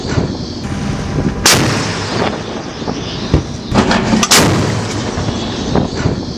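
A 76mm naval gun fires a surface bombardment, with two sharp, loud blasts ringing out about three seconds apart over a rumbling, clattering background.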